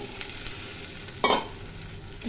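Green chillies and water go into a frying masala for rohu fish curry. A steady sizzle runs throughout, with one brief, sharp hiss and splash burst partway through.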